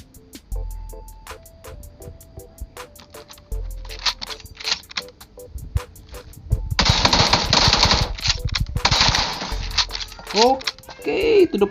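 Gunfire in the mobile game PUBG New State played on a Poco X3 NFC phone: rapid, crisp automatic bursts and single shots in a steady rhythm, growing denser and louder toward the end, with talk over them.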